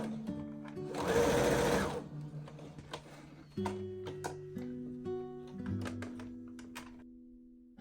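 Sewing machine stitching gathers on a nightgown sleeve, working in slow, careful short runs with pauses, soft and close, with a brief rustle of fabric early on and light clicks between bursts.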